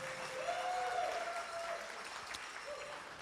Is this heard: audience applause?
yes